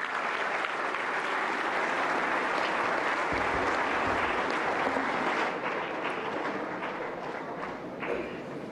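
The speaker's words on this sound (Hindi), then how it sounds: "जोरदार तालियों से स्वागत करें माननीय राष्ट्रपति महोदया का।" Sustained applause from a large audience at a national teachers' award ceremony, welcoming the President onto the stage; clapping is dense and steady throughout, loud and close, thinning slightly toward the end.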